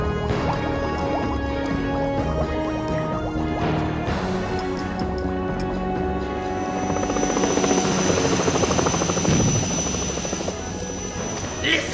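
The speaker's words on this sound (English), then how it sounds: "Hear that? Sounds like a hover jet!" Cartoon hover jet flying close by, a loud steady whirring, helicopter-like drone with layered engine tones that swells slightly midway, mixed with other soundtrack effects.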